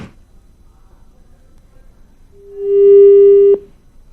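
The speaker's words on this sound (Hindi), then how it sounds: "अमित का फोन कट हो गया है" Phone line tone after a call is disconnected, a single loud steady electronic beep lasting about a second and stopping abruptly after near silence.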